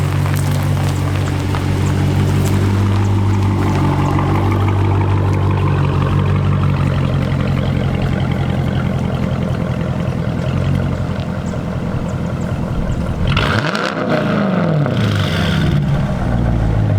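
A Dodge Durango engine revs nearby, a loud continuous roar that rises and falls and swells into a sharper rev near the end.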